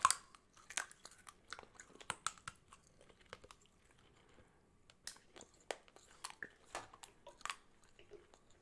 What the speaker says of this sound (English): We're going to chew it for a little bit